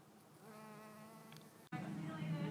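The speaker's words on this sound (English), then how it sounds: "Look at this white bee. This white bee's loving it." A white bee buzzes steadily among flowers outdoors, a close, continuous drone with a brief break before it resumes louder.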